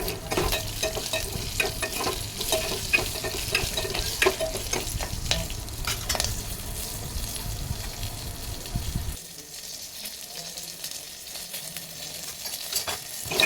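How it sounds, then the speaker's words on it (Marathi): Mango kadhi ingredients with turmeric cooking over a high flame, a steady loud sizzle with stirring scrapes that drops abruptly to a quieter simmer near the end. "हे सर्व हाय फ्लेम करून पाच मिनिट शिजवून घ्या"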